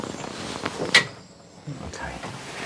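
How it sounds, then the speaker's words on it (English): A door on a roof-lantern installation job is pushed shut with a single sharp knock, followed by faint shuffling and handling noises, with people talking quietly nearby. "Now get the door shut."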